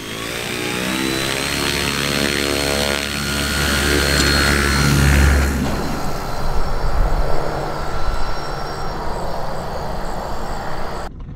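A homemade electric airplane's propeller motor drones loudly at first with a steady tonal whine, then gives way to a rougher, fluttering rush as the aircraft flies.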